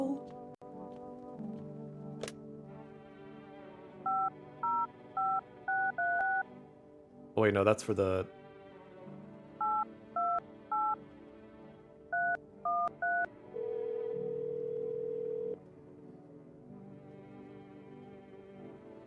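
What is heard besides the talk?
phone number being dialed in video game No, I'm Not A Human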